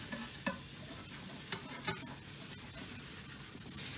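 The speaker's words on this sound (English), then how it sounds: "So I'm done with the scrubbing part with the soap." Soapy scrubbing of a Cantonese-style wok with two metal handles, steady close rubbing and scouring with a few sharper scrapes and clinks, quiet and without speech.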